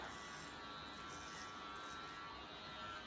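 Electric hair clippers running steadily during a DIY buzz cut, a close, continuous high-pitched buzz with a constant motor hum and no talk over it.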